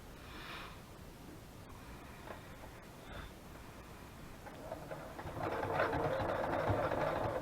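A sewing machine stitches down collaged journaling cards. After a few soft clicks and rustles, a fairly quiet, sustained mechanical whir starts in the last couple of seconds.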